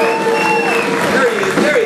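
A club crowd at a Texas R&B show claps for a singer in the audience, a dense, continuous wash of applause with an emcee's voice and background sounds running over it.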